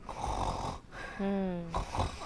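A pug with pinched nasal passages breathes with a labored, snoring rasp: one drawn-out, nasal wheeze rises in the middle between noisy, snuffling breaths, all close up.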